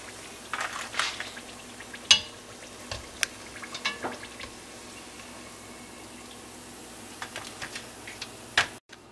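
Apple wontons fry in oil with a soft, steady crackle, while scattered ticks and clinks from handling sound close by.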